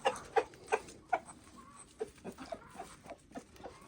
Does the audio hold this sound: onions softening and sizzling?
no